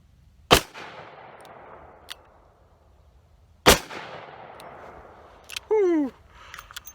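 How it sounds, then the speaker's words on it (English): Two .357 Magnum revolver shots strike a bulletproof backpack, each a loud sharp crack with a trailing echo, a few seconds apart, followed by a brief rising whistled exhale. "I've got it loaded up with 2 rounds of 357 Magnum. Let's see how this does."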